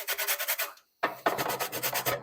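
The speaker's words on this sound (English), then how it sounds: "And now I'm going to grate 1 lemon into this." A lemon rubbed over a metal grater for zest, a close, rhythmic scraping of quick even strokes with a brief pause midway, no talking.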